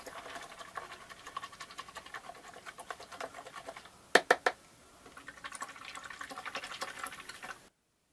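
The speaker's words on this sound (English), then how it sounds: "Wash this brush." Paintbrush rinsed in a water container during a landscape painting session: a steady close swishing and pattering of water with a few sharp taps near the middle, then a brief stop.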